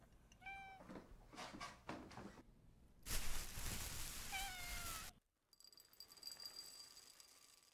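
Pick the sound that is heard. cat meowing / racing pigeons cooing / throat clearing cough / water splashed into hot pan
cat meowing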